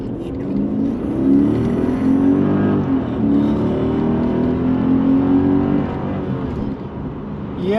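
A 2001 Mercedes E55 AMG with a big-block V8 pulls away from a standstill with a little tire spin, its deep engine note rising steadily through the gears, loud and close, then easing off near the end.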